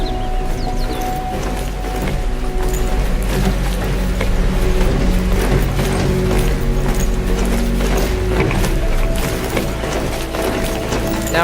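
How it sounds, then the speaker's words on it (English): Giant Tallneck machines striding past in the Horizon Zero Dawn video game, a steady loud mechanical clanking of gears and ratcheting parts with a continuous low rumble and no talking. "See some of these tall necks here walking by."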